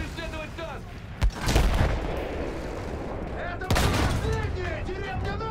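Tank cannon fire in the World War I shooter Battlefield 1: two heavy, booming blasts land a few seconds apart over continuous battlefield rumble, with voices audible throughout.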